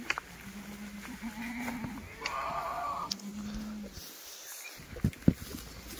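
Kathiawari goats on a farm give a couple of drawn-out, moderately loud bleats, then a short bleat, followed by scattered knocks and shuffling.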